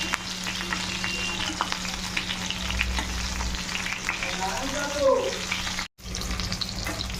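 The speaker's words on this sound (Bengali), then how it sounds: "এভাবে উল্টে পাল্টে ভেজে নেব।" Masala-stuffed eggplants sizzle steadily in hot oil as they are turned and fried in a pan, with occasional soft stirring scrapes and nobody talking.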